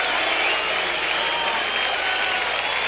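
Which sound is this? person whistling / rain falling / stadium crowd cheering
stadium crowd cheering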